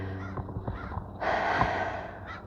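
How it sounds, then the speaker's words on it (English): Crows caw overhead as they fly past outdoors, several harsh calls spaced apart and then a louder, longer burst of cawing, fairly close and clear with no one talking. "there have been crows flying by, flying ahead, flying over me as I'm recording this"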